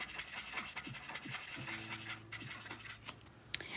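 A coloring pencil scrubs back and forth on paper, a quiet close rasping rub in quick repeated strokes with a couple of sharp ticks near the end.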